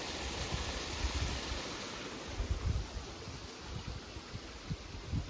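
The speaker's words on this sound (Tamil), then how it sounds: "குட்டி வாட்டர் ஃபால்ஸ்" A small mountain waterfall rushes in a steady broadband roar, with gusty low rumbles that suggest wind on the microphone, and no voices.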